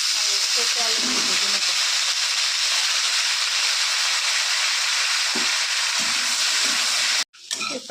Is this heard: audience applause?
no